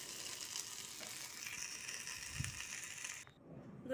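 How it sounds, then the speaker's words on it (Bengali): Chopped ivy gourd sizzles in a pan with onion and chili, a soft, even frying hiss with a few faint stirring knocks, quiet and steady before cutting off abruptly near the end. "সে ভাজা বসিয়ে দিচ্ছি পেঁয়াজ লঙ্কা দিয়ে, এটা ভাজা হয়ে এসছে,"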